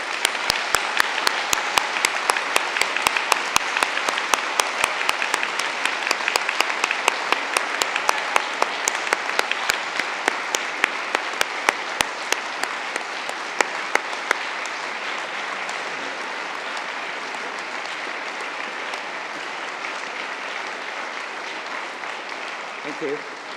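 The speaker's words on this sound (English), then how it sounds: "give them a massive round of applause" Families and friends at a London degree ceremony applaud the standing graduates: a dense, sustained round of clapping that fills the hall, with sharp individual claps standing out early and the applause thinning slightly toward the end.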